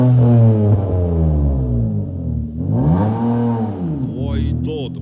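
A 2007 Kia Carnival fitted with a 3.5 Sonata engine revving hard several times, the pitch sweeping up and falling back in repeated loud surges, with a voice talking over it.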